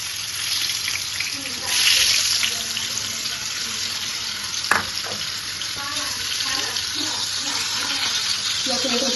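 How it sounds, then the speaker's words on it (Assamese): Onions frying in oil in a home kitchen, a steady sizzling hiss with faint stirring and a brief clatter midway, running continuously beneath low background noise. "পিঁয়াজখিনি ভাজি আছোঁ।"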